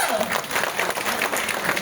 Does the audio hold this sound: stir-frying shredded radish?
no